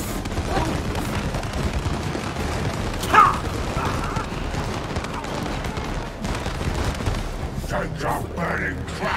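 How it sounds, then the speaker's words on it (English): Firecrackers go off in the co-op video game It Takes Two, with one sharp pop standing out midway above a busy layer of game noise and low background sound. "Are those firecrackers? Why does he have firecrackers?"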